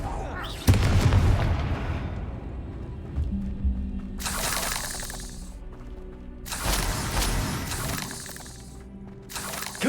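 Confringo blasting spells explode in Hogwarts Legacy combat: a sharp shattering blast opens, and further roaring bursts follow in a repeated sequence with ringing game sounds in between, plus some voice.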